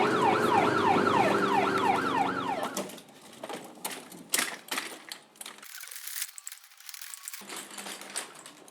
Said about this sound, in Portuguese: nós acompanhamos o deslocamento de uma ambulância